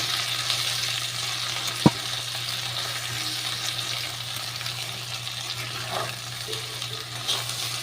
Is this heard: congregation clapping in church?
no